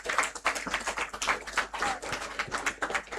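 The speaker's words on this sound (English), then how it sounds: "A huge round of applause for them." A crowd claps for the runners-up team from Lloyd Law College, Noida, at a moot court prize distribution ceremony, a dense, steady patter of many hands filling the hall.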